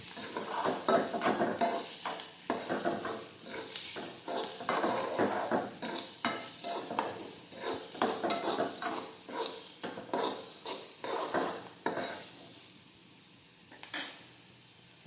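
Chopped onions being stirred and sautéed in a pan with asafoetida for a Gujarati sev-onion curry: steady scraping and clattering of a utensil against the pan with a faint sizzle beneath, continuing in repeated strokes and thinning out toward the end.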